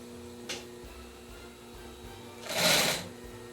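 A Consew 99 industrial sewing machine stitching through six layers of material, heard as one short loud burst of running needle near the end after a faint click, against a quiet workshop hum.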